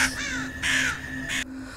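A crow caws as a film sound effect, giving three harsh, loud, close calls in quick succession, each a rasping burst followed by a short pause, with no other sound.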